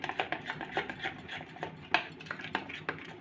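Dhokla batter being stirred after a small packet of Eno is added, a spoon scraping and tapping against the bowl in quick, uneven strokes, close and fairly quiet with no talking.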